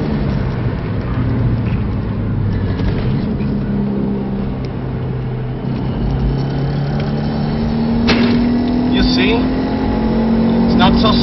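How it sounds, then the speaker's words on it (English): A Subaru Legacy 2.0 pulls hard through a 0–100 run, its engine droning loud and continuous with rising pitch heard from inside the car, while a voice talks over it. "And still accelerates very hard."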